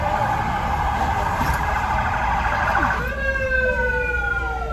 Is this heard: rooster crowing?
no